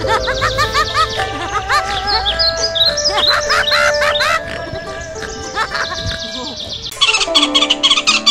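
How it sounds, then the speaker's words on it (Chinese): Animated woodpecker singing in a cartoon, with busy, bright chirps and warbling bird-like phrases over a musical backing, then a denser burst of chirping near the end. "啄木鸟在歌唱"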